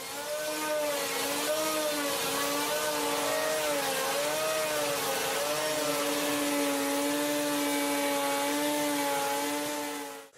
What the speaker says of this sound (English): I just cut a bigger slot where the blade goes with my jigsaw